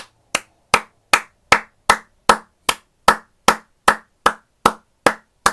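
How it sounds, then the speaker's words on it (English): Single person clapping hands slowly and evenly, about fourteen sharp, loud, close claps spaced roughly every 0.4 seconds, each with a short ringing decay and silence between. "How long should I clap?"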